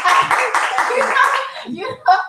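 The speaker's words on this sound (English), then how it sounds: "Can we get the claps?" An audience at a talk show bursts into brief, lively clapping for under two seconds, then it fades and a voice and laughter follow.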